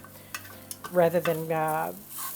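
Mushrooms sautéing in a pan for hot and sour soup, stirred with a scraping, squeaky utensil over a faint steady sizzle, close and fairly quiet.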